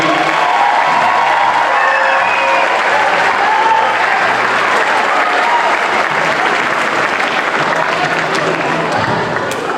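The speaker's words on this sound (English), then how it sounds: "Can we give them a round of applause?" An audience applauds the Gillett Middle School beginner band at a spring concert, with a sustained roomful of clapping and faint cheering that carries on for about ten seconds.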